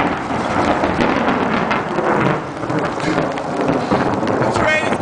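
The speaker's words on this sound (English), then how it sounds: "there's a tremendous downpour as all through the night" Heavy rain pours down steadily in a nighttime wilderness storm, a dense continuous roar with rumbles of thunder, loud and close throughout with no break.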